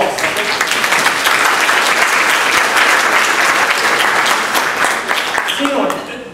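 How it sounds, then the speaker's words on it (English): An audience applauds two VFA fellows, steady dense clapping throughout that holds its level before tapering slightly at the end, with some voices mixed in. "Please give them a round of applause."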